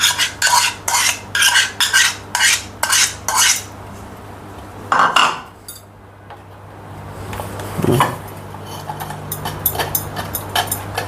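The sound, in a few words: custard apple pulp pressed through a sieve to remove seeds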